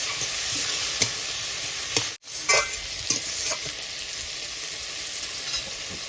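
Shrimp and elephant foot yam stalks sizzle in a frying pan while being stirred, a steady close frying hiss broken by scraping stirs and one brief dropout, with no talking.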